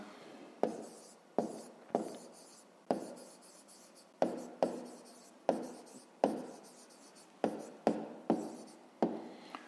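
Pen writing out a fifth-grade geometry answer on paper, heard as a steady run of close, scratchy strokes with sharp taps at the start of each word, with no one speaking.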